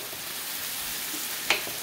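Pancit canton noodles being mixed in a hot pan give a steady, even sizzle, broken once near the end by a brief scrape or clink of the utensil.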